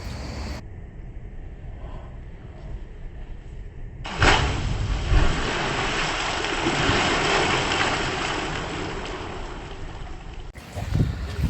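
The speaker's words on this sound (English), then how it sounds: "I did a full-on bomb shell into the bath, and it dispersed all of that" A body cannonballs into a full bath, and the water bursts up in a loud, sustained splash that sloshs and settles over several seconds, with a quieter rush of water before and after.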